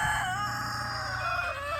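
Chickens call nearby in a steady, drawn-out warbling cluck over a low background hum, in winter.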